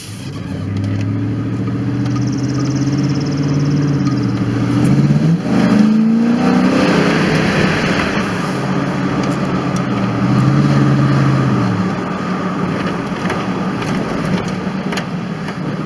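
A car fitted with a cold air intake drives along a bumpy, rough road, its engine droning steadily with a louder rev swelling around the middle and another push later on, close and continuous throughout.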